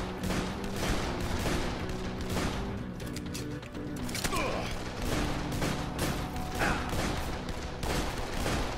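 Rapid bursts of gunfire crackle continuously in Dead Island on PS4, with rattling volleys and occasional booms layered over a busy background.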